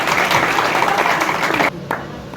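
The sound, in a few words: audience applause at an institute ceremony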